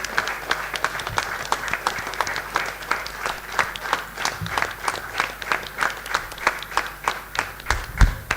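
Warm, sustained applause from a workshop audience on biomass co-firing in thermal power, many hands clapping in a steady rhythm throughout, fairly close and loud.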